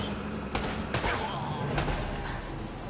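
Shots ring out in Uncharted: Drake's Fortune: several sharp gun cracks spaced over a few seconds stand out from a dense wash of combat noise, with voices faintly in the mix.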